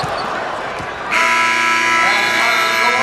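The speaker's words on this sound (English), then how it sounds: "McClure, long 3 at the buzzer." A loud, sustained end-of-period buzzer blares through a high school basketball gym at a boys Class 1A semifinal, cutting in about a second after crowd and court noise and holding steady to the end.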